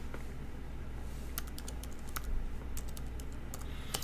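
Keys clatter on a computer keyboard in irregular bursts of sharp, close taps over a low background hum.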